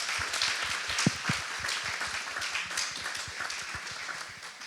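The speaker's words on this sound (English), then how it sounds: "Round of applause for them." An audience applauds a panel at a nursing school reunion event: steady, moderately distant clapping from a crowd, continuous and even throughout.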